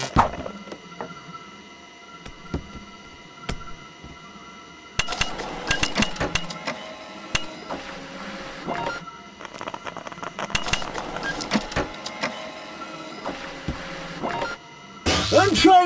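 An office printer runs in the video game Job Simulator, clattering in rapid mechanical bursts with tonal whirs and clicks, stopping and starting in several busy stretches.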